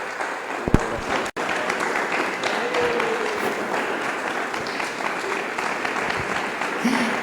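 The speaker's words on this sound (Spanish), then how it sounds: "Un aplauso para el maestro." An audience applauds a teacher at an education event, with steady sustained clapping filling the whole stretch, loud and even with only brief dips.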